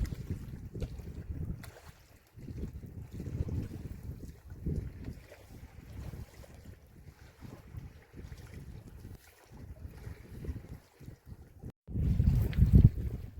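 A fishing boat sets out on the Bidyadhari river in the Sundarbans, giving a low, steady rumble buffeted by wind noise that surges noticeably louder near the end.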